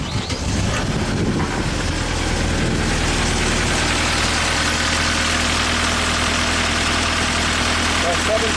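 A Perkins diesel engine on a Genie lift cranks and catches, then settles into a loud, steady, rumbling idle close by that runs unbroken to the end.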